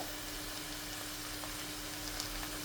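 Chicken wings with chili sauce and spring onion sizzling steadily in a pan, a soft continuous crackling hiss with a low hum behind it and no talking.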